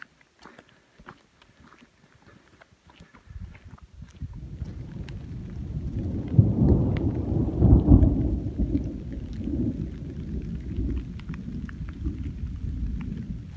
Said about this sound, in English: There was just a really nice thunder rumble that happened above us.